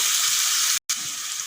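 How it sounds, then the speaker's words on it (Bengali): Kabuli chana and carrots fry in oil in a pan, giving a steady, close hiss of sizzling with a brief cut in the middle. "চার পাঁচ মিনিট ধরে আমি কাবলি চানা আর গাজর ভেজে নিয়েছি"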